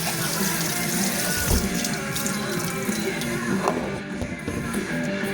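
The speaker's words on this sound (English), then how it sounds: "Rinse your beans." Drained beans being rinsed under a kitchen tap while hambone stew is cooked, with steady running water splashing into the sink throughout and no talk.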